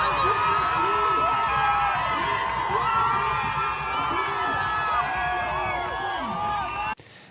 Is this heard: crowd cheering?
yes